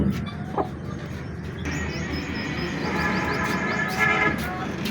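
A large hen clucks in a backyard coop, soft repeated clucks over a dense bed of background noise and a faint engine-like hum, with other fowl calls scattered through.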